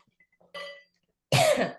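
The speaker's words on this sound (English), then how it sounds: "I have to cough" A short throat sound followed by a single harsh, loud cough, close up, with silence around it.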